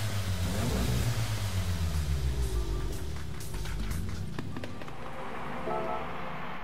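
Golf GTI engine in the Gran Turismo racing game, revving and accelerating with rising, falling gear pitch sweeps early on, then settling into a steady drone under loud ambient rumble.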